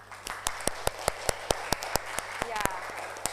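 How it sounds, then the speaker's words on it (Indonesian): Classroom applause for a student presentation group: a small number of people clapping in a fairly regular rhythm, with distinct individual claps, moderately close over faint room hum and a brief voice near the end. "Tepuk tangan untuk kelompok ganjil."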